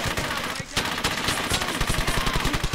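Rapid automatic gunfire from the World War II shooter Brothers in Arms: Hell's Highway, dense bursts of shots rattling continuously with a brief dip partway through, loud and close.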